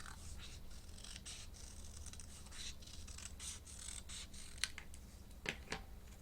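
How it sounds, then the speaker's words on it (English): Scissors snip through cardstock while coin envelopes are being made, a steady run of soft, close cuts with a couple of sharper clips near the end, all faint. "So now I'm just going to go ahead and cut that out."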